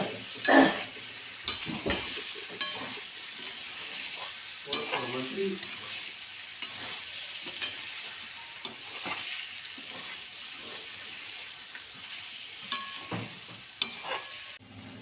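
A spoon stirs cauliflower and potato curry mixed with thecha in a hot pan, producing soft sizzling and frying with intermittent scrapes and clinks of utensil on metal, close and alone without talk.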